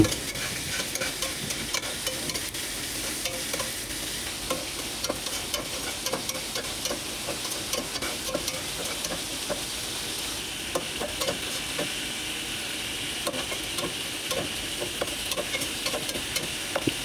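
Onions frying in oil until brown give off a soft, steady sizzle at close range, with intermittent light scraping and stirring clicks throughout and no voices.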